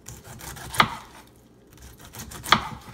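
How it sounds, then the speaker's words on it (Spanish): A knife chops through peeled fruit on a board for freezing: two distinct, crisp cuts about two seconds apart, close and fairly quiet, with a soft rubbing sound between them and no voices. "La pelamos, la picamos."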